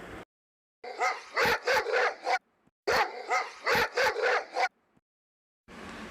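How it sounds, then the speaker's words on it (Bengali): A dog barks in two quick bursts of several sharp, loud barks each, close by, with short silences between them. "কুকুর কি শব্দ করে?"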